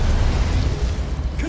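Incendio fire spell cast in the video game Hogwarts Legacy: a loud, continuous rushing burst of flame that fills the whole moment, dense and roaring with no voices.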